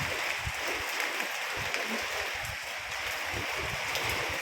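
Steady typhoon rain pouring onto a rooftop in Taiwan, an even, dense hiss of falling water that continues unbroken and fairly close throughout.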